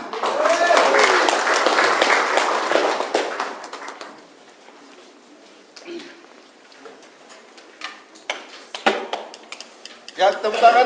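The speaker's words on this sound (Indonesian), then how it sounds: "Ya, tepuk tangan sekali lagi buat Bapak Agus" An audience applauds at a business launch event, loud crowded clapping mixed with voices that fades after a few seconds, followed by quieter moments and someone speaking.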